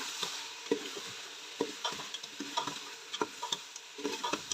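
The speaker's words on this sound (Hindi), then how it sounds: "इनका हम कलर चेंज होने तक इन्हें भून लेते हैं" Mutton chops sizzle in a pan while a utensil stirs and scrapes them in an irregular, close rhythm of soft knocks, with no voices.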